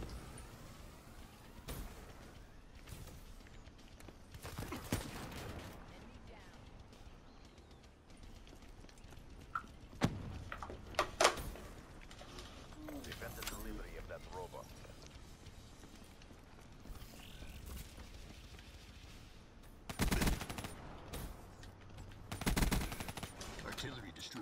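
Sporadic bursts of video game gunfire sound over a low, busy background, with several sharp loud volleys spaced across the stretch and quieter shots and movement between them.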